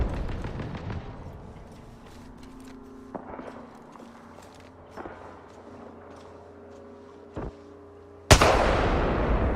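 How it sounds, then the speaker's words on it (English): In an Apex Legends match a grenade goes off with a sudden loud, broadband blast near the end. It follows a stretch of scattered gunfire, clicks and footsteps, and a sustained roaring decay trails after it. "Whoa, grenade."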